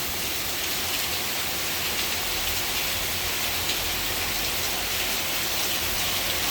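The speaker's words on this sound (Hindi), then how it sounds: "अभी आप आवाज़ भी सुन सकते होंगे बारिश की कि कितनी तेज़ जो है ना बारिश इस वक्त हो रही है।" Heavy rain pours down in Botswana in a dense, unbroken roar of hiss and patter that stays loud and steady throughout, with no voices.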